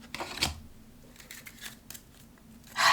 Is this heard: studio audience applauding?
no